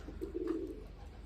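A soft, low pigeon coo sounds once, brief and fairly faint, against quiet background noise.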